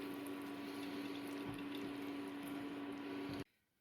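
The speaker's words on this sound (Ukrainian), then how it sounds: "і переливаю варення" Thick blackcurrant jam pouring steadily into a glass jar for a few seconds, close up, then stopping abruptly.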